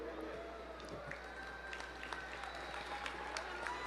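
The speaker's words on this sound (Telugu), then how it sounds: "ఆవిడ కూడా అందరూ ఒకసారి రౌండ్ ఆఫ్ అప్లాజ్ ఇవ్వండి" A convention hall audience at the TTA Mega Convention 2024 in Seattle gives a round of applause, a steady, fairly faint wash of clapping that runs throughout, with a little crowd noise mixed in.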